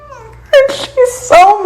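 A cat yowls at an automated cat feeder that has not yet dropped food, giving three loud, drawn-out wailing meows close by, separated by short pauses.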